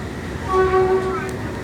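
A train crosses the bridge over the Kwai River with a rumbling rail roll and a brief tonal horn or squeal, fairly loud and close.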